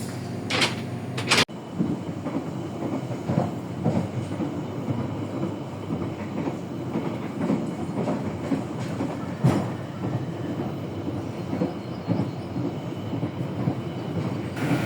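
A train rumbles steadily with a clickety-clack rhythm, heard from aboard the KA Serayu as an executive train crosses at Banjar station, after a sharp clunk near the start.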